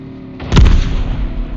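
In a Call of Duty Mobile battle royale match, a single sharp explosion bursts over low background game noise, then fades into a rumbling tail.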